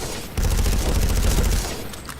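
A TR assault rifle in a video game fires a rapid, continuous automatic burst of closely spaced shots for over a second, loud and near, then trails off.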